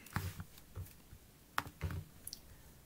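A short burst of keyboard typing nearby, irregular clicky keystrokes with a few louder taps and gaps between them.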